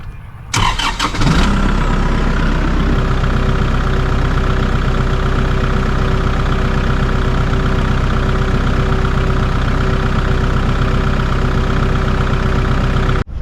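A $50k farm machine's engine cranks for a moment, catches and starts, then settles into a loud, steady idle with a constant hum and low rumble that runs unbroken to the end.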